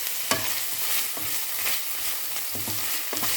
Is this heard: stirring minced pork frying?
yes